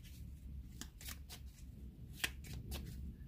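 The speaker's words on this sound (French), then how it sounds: "je vais rajouter quand même une carte" Playing cards being shuffled and drawn for a tarot reading, with soft repeated riffling snaps and flicks at close range in a quiet room.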